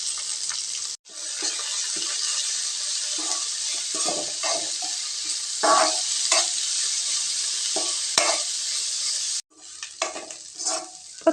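Curry leaves sautéing in a tempering for broad bean kootu, a loud continuous hissing sizzle broken by scattered pops and spatters, with a brief drop near the start and a sharper cut near the end.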